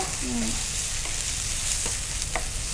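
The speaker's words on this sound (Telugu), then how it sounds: "ఆ పేస్ట్లోని పచ్చివాదనం అంతా పోయేంత వరకు కూడా మనం ఫ్రై చేసుకోవాలండి" Ginger paste frying with chicken in a pan, a loud continuous sizzle with occasional stirring scrapes running evenly throughout.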